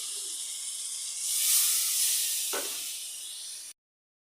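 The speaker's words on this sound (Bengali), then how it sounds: "এখন জল দিয়ে দিব।" Water poured into spiced potatoes in a hot pan gives a loud, steady steam hiss that swells and then fades, with a brief clatter near the end before it cuts off abruptly.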